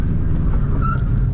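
An Aixam GTI microcar, a small license-free car, drives slowly to park, its engine giving a steady, close, loud low hum throughout with a brief higher whine midway.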